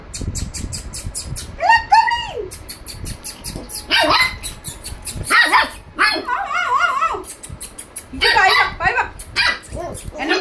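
A dog barks and yelps in short, repeated bursts close by, mixed with excited whimpers, while people talk nearby.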